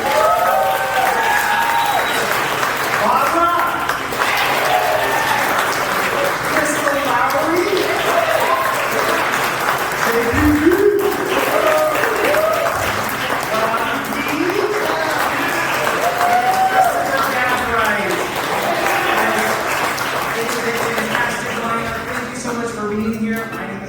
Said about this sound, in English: Let's give a big round of applause for Zach Weaver.